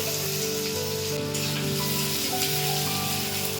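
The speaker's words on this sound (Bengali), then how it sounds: "তারপর এখানে কড়াইতে আমি পেঁয়াজটা ভেজে নিচ্ছি" Onions fry in oil in a kadai, giving a soft, steady sizzle with a faint background hum and no talking.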